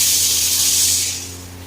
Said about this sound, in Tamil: இப்போ இந்த இடத்துல வந்து புளி கரைசல் ஊத்திக்கலாம்.